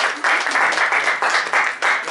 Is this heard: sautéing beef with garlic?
no